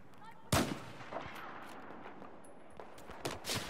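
Battlefield 4 tank cannon and artillery fire: a loud, sharp blast near the half-second mark, then scattered distant booms and several more shots toward the end over steady battlefield rumble.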